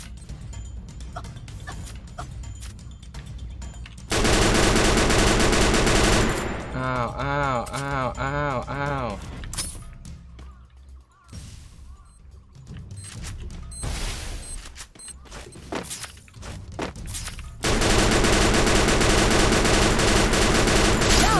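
Rapid automatic gunfire in the video game Free Fire, with long dense bursts and shorter volleys mixed with mechanical reloading and clicking effects, alongside in-game music and a player talking excitedly.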